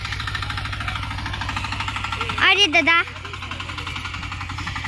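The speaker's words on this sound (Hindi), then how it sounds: "चला रहा है अभी ट्रैक्टर ट्रैक्टर।" A tractor engine runs steadily on a village farm field, a constant low rumbling drone throughout, fairly close, while someone talks briefly over it.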